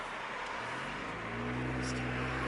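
Inside a Jeep JK fitted with a new muffler, the exhaust is a low, quiet drone beneath road noise that rises slightly as the engine pulls, heard from the cabin.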